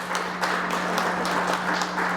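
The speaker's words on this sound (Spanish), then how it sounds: "un aplauso por favor a Mario Lugos" Audience applause at a book presentation at a book festival, dense sustained clapping from a crowd, even and continuous, with a steady hum beneath.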